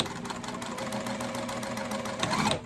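Sewing machine stitching a tall wallet made with Optipop thread, a steady close rapid mechanical chatter running continuously with a slight lift near the end.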